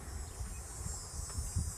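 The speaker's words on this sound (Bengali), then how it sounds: "ঝিঝি পোকা সত্যিই ডাকছে" Crickets chirp from a large tree outdoors on a mild, calm day, a faint continuous high buzzing with light wind and soft low rumbles beneath.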